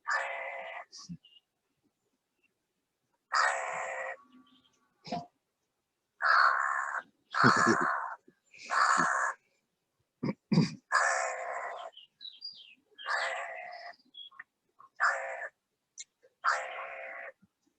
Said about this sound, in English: Don't let the crow prevent you from coming in.